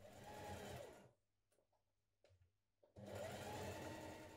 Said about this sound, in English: We're now going to stitch from this corner here all the way down to the hem, down this side seam, with a 1 centimeter seam.